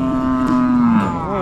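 Cattle, likely bulls, in a small riverside field in a valley, with one long, loud, drawn-out moo rising and falling near the listener and a second lowing voice joining toward the end.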